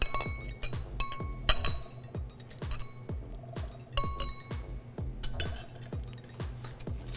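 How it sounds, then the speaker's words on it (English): Cocktail ingredients being muddled directly in a glass, a steady run of sharp glassy clinks and knocks repeating roughly every half second, close and fairly loud with no voices. "You're gonna muddle directly in the glass."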